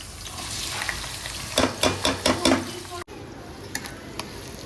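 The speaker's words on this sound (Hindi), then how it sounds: "पहले मैंने गार्लिक को फ्राई कर दिया, अब मैं ओनियन डालूंगी" Onions fry in a pan after garlic for a chole gravy, sizzling steadily with a burst of five or six quick stirring scrapes. The sound then cuts abruptly to a quieter sizzle with a few faint taps.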